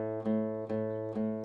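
A single low acoustic guitar string, the fifth string, is plucked three times in a row, each note ringing briefly and fairly quietly before the next.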